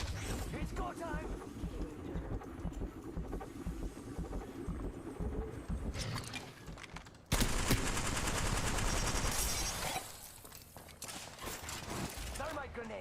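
Automatic gunfire in the battle royale shooter Apex Legends, dense rapid bursts close by that cut out around the middle before another loud volley, with game voices and effects underneath.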